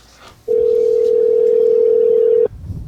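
A telephone dial tone during a call to a guest on a live podcast hums as a single steady tone that switches on abruptly, holds loud and unbroken for about two seconds, then stops, with faint room noise before and after.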